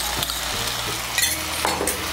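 Plain yogurt is stirred into a sizzling spice masala in a pan for a Bengali vegetarian potato and soybean curry. A loud, steady frying hiss fills the whole stretch, with soft stirring scrapes and no voices.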